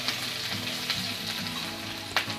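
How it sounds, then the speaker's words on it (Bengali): Ginger paste frying in oil for a vegetable chop, a steady close sizzle with soft stirring scrapes and one brief sharp crackle near the end. "আদা বাটাটাও ভালো করে ভাজা ভাজা করে নিতে হবে"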